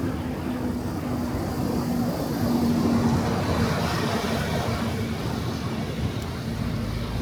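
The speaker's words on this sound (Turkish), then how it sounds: "Şu otobüs beni bir geçsin." A bus passes a loaded touring bicycle on a road in South Korea, a steady broad engine and tyre roar swelling slightly mid-way, blended with wind rush and road noise throughout, no talk.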